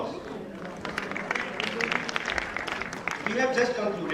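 A conference audience applauds, a scattered patter of clapping mixed with voices that swells slightly toward the end.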